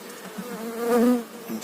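Honey bees buzz steadily at the hive in a dense, close drone that swells slightly in the middle and carries on without a break.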